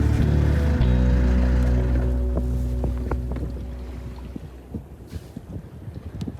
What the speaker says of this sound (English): That is a great sound. The sound of just sailing.